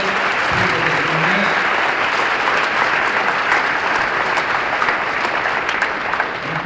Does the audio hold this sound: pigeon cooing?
no